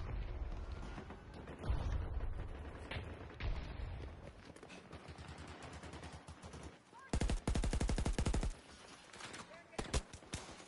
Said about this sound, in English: Oh shit, shooting at me from the crane.